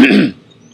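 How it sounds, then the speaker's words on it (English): One sharp, close throat-clearing cough from a man with a sore throat, a rough burst lasting a fraction of a second and then trailing off into quiet. "I'm terribly probably going to do some coughing and make some noise for you"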